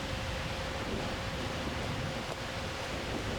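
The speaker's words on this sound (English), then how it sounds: "The wind has picked up." Wind blowing steadily across an outdoor archery range during a compound World Cup final, a continuous broadband rush with no distinct gusts, heard alone without talk.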